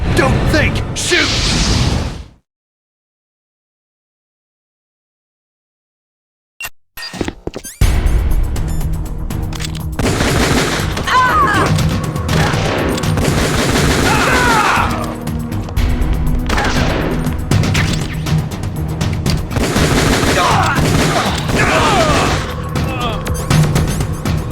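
Gunfire rattles in a Metal Gear Solid remake, bursts of shots and crashes filling the scene after a brief silence, loud and near, mixed with voiced dialogue and game effects.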